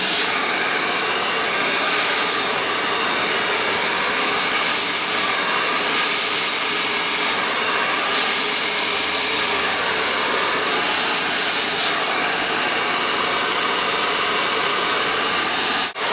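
A hair dryer blows steadily during a men's clipper cut in a barbershop, a loud, close, unbroken airy whoosh with no speech for the whole stretch.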